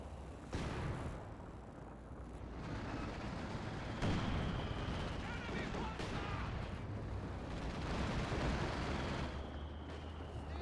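Creeping Barrage artillery shells from Company of Heroes 2 pound down in a dense, rumbling string of booming impacts, with several sharper blasts standing out, all under steady commentators' talk.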